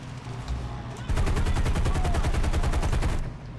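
Rapid bursts of aircraft machine gun fire from a War Thunder arcade battle rattle loudly for about two seconds over a steady engine drone.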